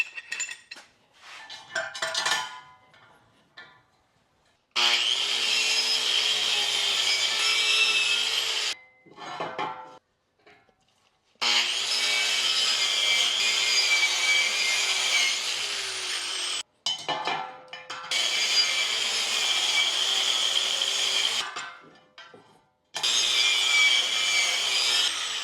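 A handheld angle grinder works on steel square tubing in bursts, four long stretches of loud, steady high-pitched grinding and scraping, each separated by short pauses with quieter rattling and handling noise.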